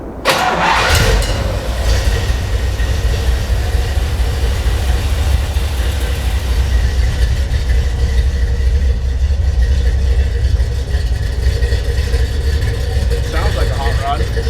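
A 1960s Chevy muscle car engine cranks and catches, then settles into a loud, rough, throaty run close to the microphone, steady throughout with a little chatter near the end.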